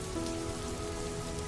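Steady, soft rain falls over a cafe at midnight, a continuous even patter with no voices.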